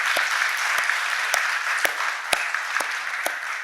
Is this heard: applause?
yes